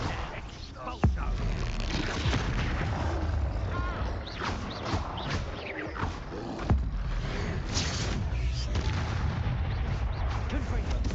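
Expulso spell explosions in Hogwarts Legacy thump amid continuous combat noise, with a couple of sharp blasts standing out over clanking, creaking effects and occasional voices.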